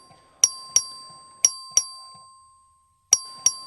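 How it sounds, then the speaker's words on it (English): A small bell in the Texas House chamber is struck by the clerk to call a vote. Six crisp, ringing dings sound in pairs, each decaying quickly, with a pause before the last two. "The clerk will ring the bell."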